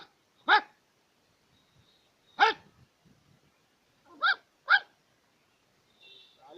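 A voice imitates a big dog, giving four sharp, separate barks with pauses between them and a faint low growl near the end, in a Chhattisgarhi comedy mimicry act.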